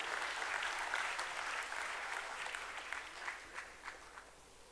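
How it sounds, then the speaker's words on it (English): Applause from an audience at an investment event's inaugural session, dense at first and then thinning into scattered individual claps as it fades out. "A huge round of applause"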